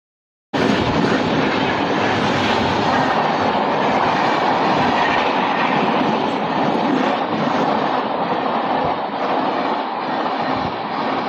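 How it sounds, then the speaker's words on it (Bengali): A fast EMU local train in India runs loudly and close by, a dense continuous roar of wheels on rails with faint clickety-clack that holds steady for about eleven seconds. "এরকম করে ছুটছে ট্রেন"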